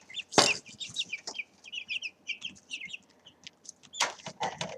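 Chickens clucking nearby, a loud squawk at the start followed by a string of busy clucks and chirps, then another burst of loud squawking near the end, with no talking.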